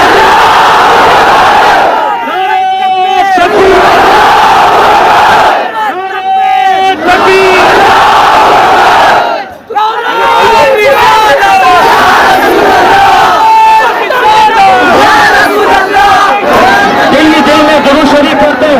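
A large protest rally crowd roars back a religious slogan in repeated loud mass chants, several call-and-response bursts of shouting separated by brief gaps, with a leader's amplified voice between them.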